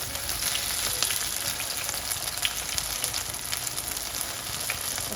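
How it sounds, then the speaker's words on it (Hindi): Aloo tikki potato patties fry in hot oil with a continuous close sizzle and fine popping crackle throughout, and no voices. "अब इसने अपनी जगह खुद छोड़ दी थी, तो हम एहतियात के साथ इसको पलट लेंगे।"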